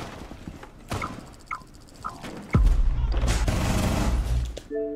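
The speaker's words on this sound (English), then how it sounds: "are you sending warning shots?" Video game gunfire as warning shots: several single sharp shots spaced out, then a heavy close sustained burst of rapid fire with a low rumble, ending in a short electronic tone.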